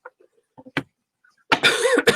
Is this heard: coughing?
yes